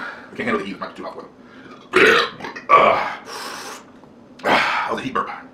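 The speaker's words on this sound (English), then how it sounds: "That was a heat burp." A man lets out several loud, close, rasping burps after eating a very hot Paqui One Chip Challenge chip, with throaty groans and breathy vocal sounds between them.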